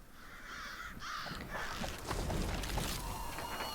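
Crows caw several times in Tearaway: Unfolded, harsh repeated calls over a busy game backdrop at moderate loudness, with no talk.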